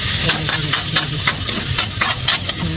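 Pork fat (kandit) sizzles loudly in a pan while being sautéed for papaya. The hiss is steady and close, broken by regular scrapes of stirring.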